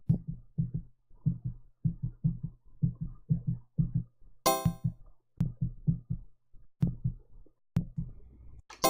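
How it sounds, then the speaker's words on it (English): A strong, steady heartbeat thumps loudly in a regular double-beat rhythm during an online multiplayer map test, interrupted once by a brief bright metallic burst. "Is that someone's heartbeat?"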